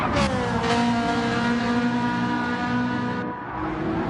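Porsche race cars in a racing video game roar with a steady, loud engine drone and rising revs that hold throughout, dipping briefly near the end before continuing.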